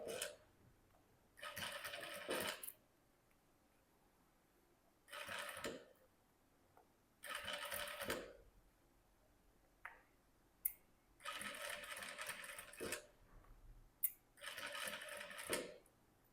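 A sewing machine runs in several separate bursts, each lasting a second or two with pauses between, while stitching a curved patchwork block pieced from fabric scraps. A few sharp clicks fall in the gaps, and there is no talk.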